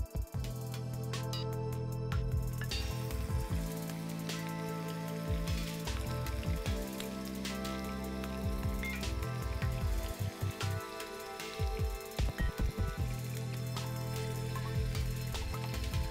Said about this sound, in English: Similarly, let's start frying the rest of the kebabs.